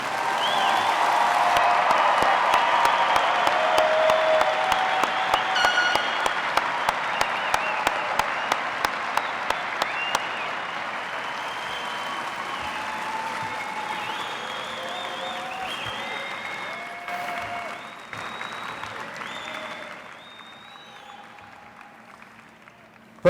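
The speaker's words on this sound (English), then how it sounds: "How about a round of applause for the class of 2020?" Sustained applause from a high school graduation audience for the class of 2020, steady and full at first, then gradually thinning and fading toward the end, with a few voices faintly audible.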